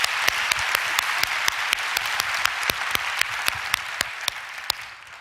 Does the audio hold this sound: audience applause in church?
yes